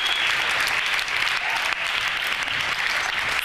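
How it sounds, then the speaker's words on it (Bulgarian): Audience applause at a live televised musical competition show, a dense, steady wash of clapping from a large crowd that carries on unbroken throughout, with no talking over it. "Вашите аплодисменти за Стоян"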